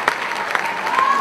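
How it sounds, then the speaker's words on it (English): A homecoming crowd gives a brief round of applause for a quiz winner, steady clapping with a few sharper claps standing out and a faint tone underneath. "And a round of applause,"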